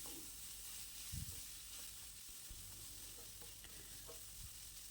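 Onions and lentils sauté in a pan for upma, giving a steady soft sizzle with faint stirring scrapes throughout, low and even with no talk.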